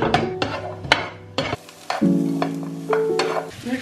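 Chopped red onion and pepper sizzling and crackling in a hot pan, with clattering stirring strokes and utensil knocks close by, no talking.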